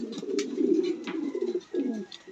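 A foster pair of domestic pigeons coo close by in a low, rolling murmur, with several throaty phrases running back to back and brief pauses between them.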